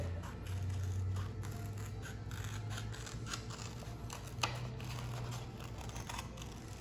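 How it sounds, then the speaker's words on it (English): Scissors snip through paper while cutting out a shape, a series of quiet crisp cuts and rustles repeating close by. "this is going to be the last shape that I cut out"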